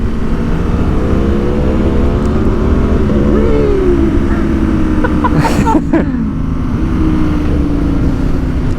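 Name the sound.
Aprilia Tuono V4 motorcycle with aftermarket exhaust revving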